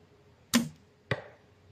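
Two sharp crossbow shots with a large crossbow, each a sudden snapping release of the string followed by a brief whoosh and rattle, spaced about half a second apart in a quiet setting.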